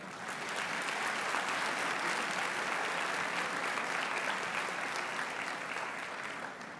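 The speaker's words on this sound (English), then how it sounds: "I think you deserve a round of applause as well." A large convocation crowd at a spring graduation ceremony for a school of hospitality, recreation and tourism bursts into sustained applause, a thick even wash of clapping that holds steady before easing slightly at the end.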